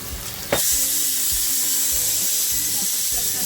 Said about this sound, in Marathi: आता हा कांदा आहे ना आपल्याला सोनेरी होईपर्यंत परतवायचं आहे